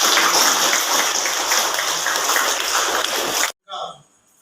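Wedding guests at a Catholic ceremony clapping together loudly and steadily for a few seconds, then stopping abruptly as a voice continues briefly afterward.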